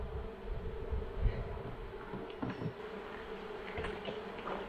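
Honeybees buzz steadily around a hive box, a faint continuous hum with occasional louder passes from nearby bees.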